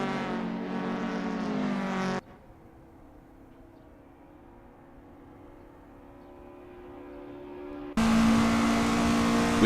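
A Lotus Cortina MK1 race car at Silverstone in Assetto Corsa: a loud revving engine note drops to a quieter, rising drone from a distant vantage, then snaps back to a close, high-revving roar.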